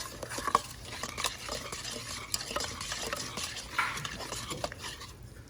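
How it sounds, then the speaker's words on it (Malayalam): Rice flour being stirred into a mixture in a pan, a steady scraping and light sizzling with soft clinks of a utensil against the pan, close and continuous. "അതിലേക്ക് അരിപ്പൊടി ചേർത്ത് കട്ട കെട്ടാതെ ഒന്ന് ഇളക്കിയെടുക്കാം."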